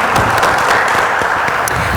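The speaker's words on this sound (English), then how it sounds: "You all should give yourselves a round of applause." An audience in a chapel lecture hall gives a round of applause, a loud, steady, close roar of many clapping hands that continues unbroken.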